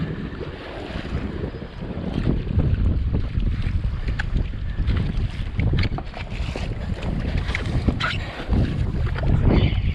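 Wind and choppy waves buffet a fishing boat on the St. Lawrence River during a bass tournament, a steady roar of wind noise with repeated water slaps against the hull, loud and close.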